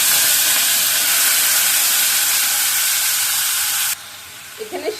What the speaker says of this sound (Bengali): তেলটা আর একটু গরম তারপরে দিচ্ছি এই যে আদাটা আছে না আদাটা দিয়ে দিলাম তারপরে এই সবজিগুলো একসাথে